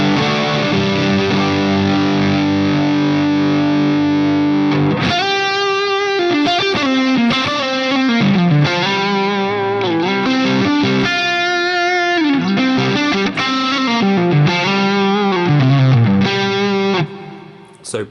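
Heavily distorted electric guitar through a Line 6 Helix amp model with Carvin Legacy drive, a held chord and then a fast lead run of bending notes, bright and saturated with no voices.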